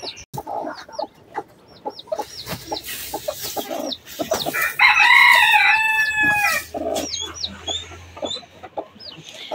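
Several hens cluck in short bursts while a rooster crows loudly partway through, close by, with scattered peeps and farmyard bustle around them.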